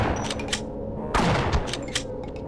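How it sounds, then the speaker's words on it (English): Shotgun blasts in a Half-Life VR mod, a couple of sharp, punchy reports over a busy game background, the louder blast landing about midway, close and forceful. "Let's do shotgun because we only got 3 shots."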